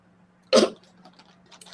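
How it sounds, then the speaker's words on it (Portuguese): A single sharp cough bursts out near the mic, followed by quiet breathy throat noises and faint rustling under a steady low hum, while a presenter pauses during a live wine-tasting talk with a dry throat. "Depois, tomar uma aguinha aqui que eu vou tossir, peraí."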